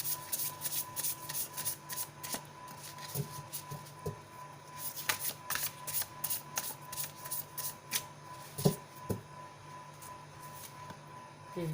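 A tarot deck being shuffled by hand, giving a rapid run of crisp papery riffles and card flicks in quick bursts, close and fairly quiet against a faint steady background hum.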